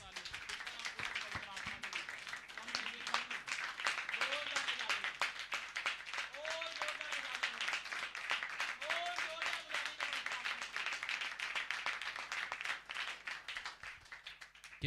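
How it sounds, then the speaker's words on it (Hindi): A church congregation claps vigorously, dense rapid applause running the whole time with voices calling out over it. "एक जोरदार ताली।"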